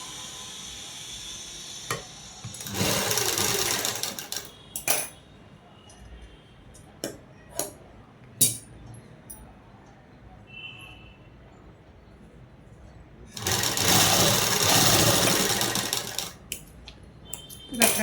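A sewing machine stitches a folded edge on blouse fabric for a collar-neck blouse, with two long steady runs of rapid whirring stitching separated by quieter handling clicks and taps, close and fairly loud.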